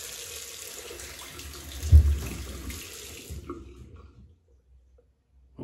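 Tap water runs steadily into a sink to wet a shaving brush before lathering soap for a stainless steel safety razor, with a brief splashy surge, then the flow cuts off and near silence follows.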